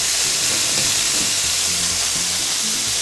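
Food frying loudly in a hot pan, a dense continuous hiss and crackle that stays constant and close throughout, with faint clatter underneath and no talking.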